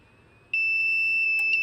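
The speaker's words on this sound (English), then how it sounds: "Okay, it's beeping. Now, why is it beeping?" An e-bike battery charger gives a sharp electronic beep that starts and holds as one continuous high tone, loud and close, with a brief click partway through.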